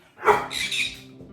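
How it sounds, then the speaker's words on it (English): A single short dog bark or yip, close by and fairly loud, trailing off quickly. "you could hear my dog, she wants to go after the squirrels"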